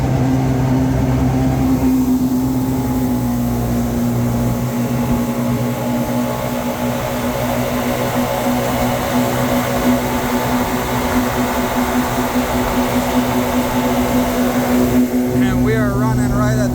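A 2017 Yamaha 212X boat's engine drones loud and close under throttle, a steady tonal roar with a strong hum that holds for over fifteen seconds while water rushes alongside.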